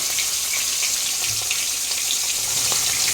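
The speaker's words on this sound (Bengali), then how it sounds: "মাছটাকে আমরা খুব বেশি না, অল্প করে ভেজে নেব।" Turmeric-coated fish shallow-frying in a pan for a light Bengali fish curry, a steady close sizzle with faint crackles and spits running throughout, no talking.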